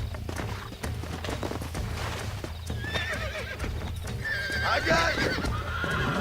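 Horse in Red Dead Redemption neighing and galloping, hooves clip-clopping steadily under game noise, with a whinny rising near the end while a player shouts briefly.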